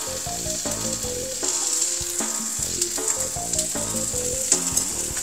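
Bamboo shoots fry in a little oil over low heat for Japanese takenoko mixed rice, giving a steady, close sizzle that crackles evenly throughout with soft music beneath.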